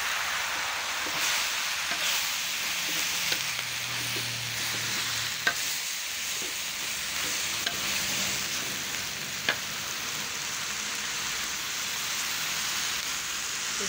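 Mustard greens stir-frying in a pan for spicy seblak, a steady wash of sizzling and frying crackle with occasional scraping stirs, fairly close and continuous with no talk.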